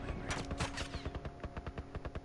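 Gunfire from a sniper rifle in The Last of Us on Grounded mode, a rapid run of sharp close shots in steady rhythm, loud and dense throughout with no talk over it.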